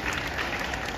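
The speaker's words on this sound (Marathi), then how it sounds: "आपण सर्वांनी टाळ्या वाजवून त्यांचे आभार व्यक्त करूया." Applause from students and guests at a school Independence Day celebration, a dense steady wash of clapping held at an even level through the moment.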